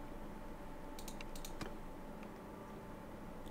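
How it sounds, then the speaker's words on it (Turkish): A computer keyboard and mouse clicking during a Mount & Blade II: Bannerlord gaming session, a short cluster of quiet clicks and keystrokes over a constant hum of fan noise, faint and close. "Eğer mouse sesinden, klavye sesinden rahatsız olursanız"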